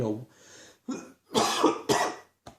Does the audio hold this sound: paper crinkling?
no